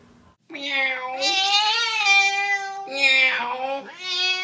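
A cat meows in a series of long, drawn-out, wavering cries, one after another with brief pauses between them, close and loud; the calls sound almost voice-like and could be a person imitating a cat.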